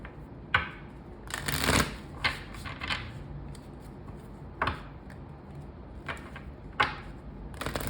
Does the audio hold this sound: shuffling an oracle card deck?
yes